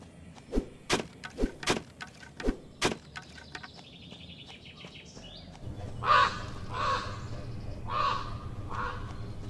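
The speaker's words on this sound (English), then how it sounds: "And I didn't quite see that bird there" A bird cawing in the video game Master Reboot, several sharp caws in a row, followed by softer chirping calls over a low game hum.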